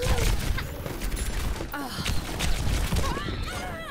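Rapid bursts of gunfire crackle almost continuously, dense and loud, with scattered metallic clanks mixed in.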